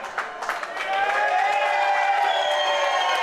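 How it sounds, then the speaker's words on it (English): Home crowd breaks into loud, sustained applause and cheering after a bocce tournament championship game ends, dense clapping swelling after the first second and holding steady to the end. "And the crowd goes wild."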